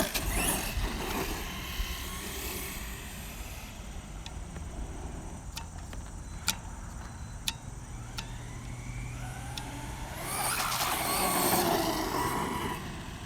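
A Traxxas Stampede 4x4 RC monster truck runs at about three-quarter throttle, giving a steady high motor whine with sharp ticks and clicks midway and a louder surge of rising buzz near the end, with no talk.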